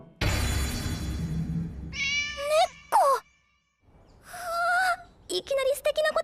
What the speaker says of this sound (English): Don't pet the stray cat.